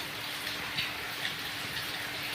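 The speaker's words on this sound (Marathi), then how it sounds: "पाऊस यायला लागला आहे" Soft, steady hiss of rain falling, a diffuse patter without distinct drops, fairly quiet and continuous throughout.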